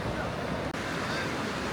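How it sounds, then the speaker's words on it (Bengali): The Lidder river in Pahalgam, Kashmir, flowing behind a hotel, a steady dense rushing wash of water, loud and near, with a brief dropout midway. "আমাদের হোটেলের পিছন দিকে আমরা দেখেছি এই লিডার নদীটা"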